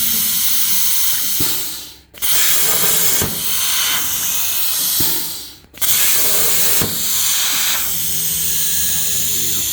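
A FASTCUT plasma table cutting along the full length of a metal sheet: a loud, close, steady hissing roar that cuts out briefly twice between passes, with no speech.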